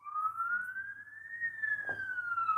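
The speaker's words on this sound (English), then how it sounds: "Sounds like an ambulance in the background" An ambulance siren wails in the distance, a single steady tone rising slowly and then falling as it passes, faint beneath a low background hum.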